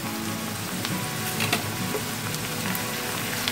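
Chopped onions and half a teaspoon of sugar frying in hot oil for a Bengali katla fish kalia, a dense, steady sizzle with occasional crackles and pops throughout, no talking.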